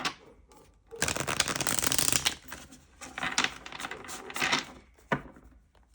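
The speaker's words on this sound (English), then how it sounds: "let's shuffle this deck" A deck of tarot cards being shuffled close up, a long riffling burst of card noise followed by several shorter shuffles and a final snap, with no talk over it.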